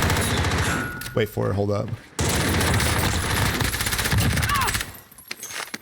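Rapid bursts of submachine-gun fire from an MP7 in the Warzone battle royale game, loud and dense through most of the stretch, stopping near the end while a player talks over it.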